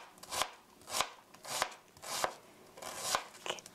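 A knife chops a tomato into small cubes on a board in quick, crisp strokes at close range, grouped in short bursts about every half second, with no talk.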